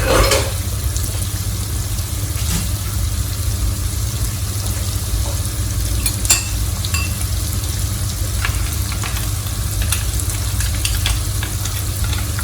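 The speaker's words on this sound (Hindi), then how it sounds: "इसमें प्याज डाल देंगे। इसको भून लेंगे, गुलाबी होने तक भूनेंगे।" Chopped onions sizzle steadily in hot oil with cumin in a pan, a continuous close frying hiss with occasional small pops and stirring clatter, no voices.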